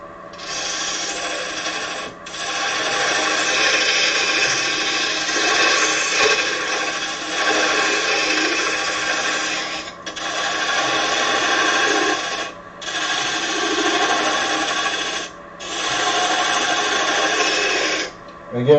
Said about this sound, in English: right now what I'm doing is I'm using the gouge, the round gouge here